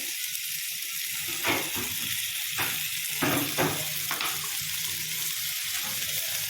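Garlic, cumin and spices frying in oil in a pan for north Karnataka style brinjal curry: a steady close hiss and sizzle throughout, with a few scraping stirs breaking through.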